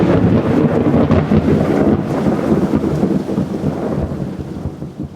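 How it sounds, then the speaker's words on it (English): Loud, deep rolling thunder from a storm rumbles continuously for several seconds and slowly fades, with rain and wind noise underneath. "it was some of the loudest thunder that I had ever heard in my life"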